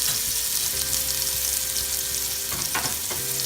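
Freshly blended seasoning sizzles in a pot for Trinidad-style curried potatoes and channa: a loud, even frying hiss with a few stirring clatters near the end, and no talk.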